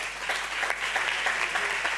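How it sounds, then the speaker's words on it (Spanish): Steady applause from an audience at a talk on emerging technologies and social action, dense clapping filling the whole stretch at moderate loudness with no voices over it. "Aplauso, por favor."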